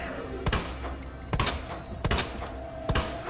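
Gunshots in a horror video game, four sharp, loud cracks spaced about half a second to a second apart over low background rumble.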